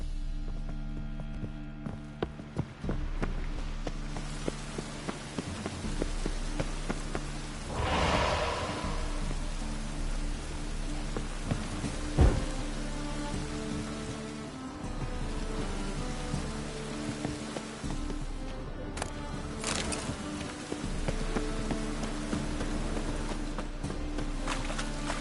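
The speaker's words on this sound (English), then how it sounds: "It's raining again." Rain falls steadily in a video game, with a constant patter on surfaces and a few footsteps mixed in, while a soft rumble of thunder swells and fades midway.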